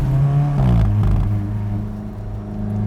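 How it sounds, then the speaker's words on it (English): An Alfa Romeo 4C Spyder's four-cylinder engine revs up close inside the cabin, a rising growl that climbs through a gear and then settles into a steady drone. "quite possibly the best sounding 4-cylinder engine I've ever driven"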